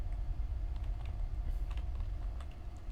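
Typing on a computer keyboard with a low battery, a steady run of quiet key clicks over a low background hum, with no voices.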